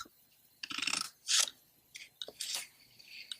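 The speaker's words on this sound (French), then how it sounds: "un premier coup de ciseau ici, à 5 cm. Un coup de ciseau à 10 cm." Scissors snip through paper while making a small gift box: a few crisp, separate cuts close by, with short pauses between them and no talking.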